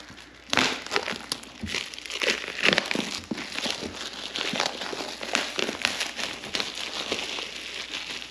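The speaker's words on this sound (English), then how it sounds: "Plastic to peel off, obviously." Protective plastic film being peeled and crinkled off a new Insta360 camera during unboxing, close-up crackling and rustling that starts abruptly and continues in uneven bursts with no speech.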